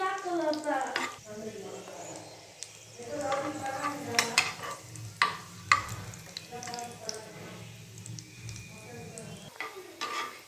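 Raisins, nuts and cardamom fry in a pan for a sweet vermicelli and sago milk payasam, giving a steady sizzle with occasional stirring scrapes and clinks, while a voice talks over it throughout.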